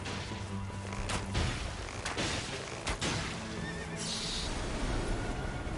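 A horse whinnies loudly and close in the video game Elden Ring: Nightreign, with several sharp neighs amid thumps and game effects and a brief high tone near the end.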